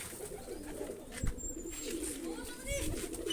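Chinese pigeons being released coo and flutter nearby amid steady background noise, with a few sharper bird calls rising briefly over the murmur.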